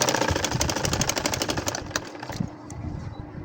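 Sewing machine stitching a nakshi kantha baby quilt in crosswise curved lines, a fast close mechanical rattle that slows and stops after about two seconds, with no talk.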